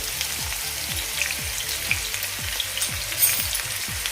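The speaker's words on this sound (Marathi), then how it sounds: "कांदा हा राव गोल्डन ब्राऊन होईपर्यंत आपण परतून घेऊया त्यासोबतच इथे मी साईडला हे आलं लसूणची पेस्ट टाकून घेते" Onion fries in hot oil with ginger-garlic paste for a capsicum masala, giving a steady, crackling sizzle with faint spatters. It is close and continuous, and no one speaks.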